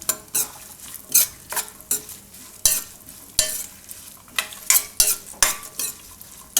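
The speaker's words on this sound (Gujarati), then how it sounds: "તો કિસમિસ એ બધી ઘીમાં આ રીતે ફૂટી જાય" Raisins fry in hot ghee in a pan for a cashew-raisin pulao, giving a steady sizzle broken by repeated sharp clinks and scrapes of a stirring spoon against the pan.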